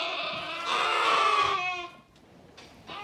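Freshly weaned lambs bleat loudly and close by, one long quavering cry that fades, then a softer call starting near the end.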